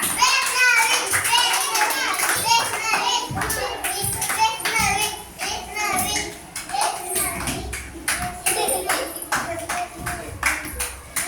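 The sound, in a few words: children clapping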